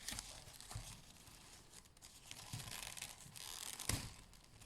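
Small scissors push against rolled newspaper during a newspaper-basket craft, producing soft paper crinkling and rustling with a few sharper crunchy bursts, close and quiet.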